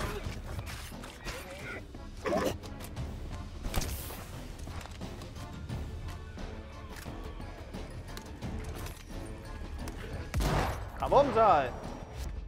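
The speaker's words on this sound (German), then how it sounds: "Okay, ein paar Schüsse mit Peggy gegeben." Several sharp gunshots from the video game Dead Island 2 crack through a busy, noisy mix, with a louder burst of shots near the end; a voice talks intermittently underneath.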